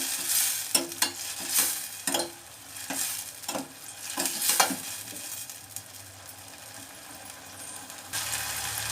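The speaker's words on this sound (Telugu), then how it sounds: "దీనిలో కొంచెం అల్లం వెల్లుల్లి పేస్ట్ వేసుకుందాం ఇది బాగా మగ్గాలి" Ginger garlic paste frying in a pan for an egg masala curry, a steady sizzle broken by repeated scraping strokes of a spoon, moderately close with no talking.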